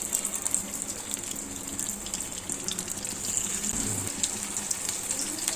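Raw plantain slices fry in hot oil on a tawa, giving a steady, close sizzling hiss that runs unbroken throughout with no talking.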